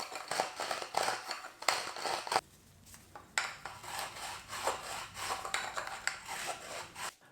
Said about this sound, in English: this tool comes with its own inner and outer deburrer